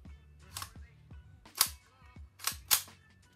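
The bolt of an LCT SR-3 airsoft rifle is worked back and forth, giving a few sharp metallic clacks and snaps at irregular intervals, close and fairly quiet, with softer handling rattles between.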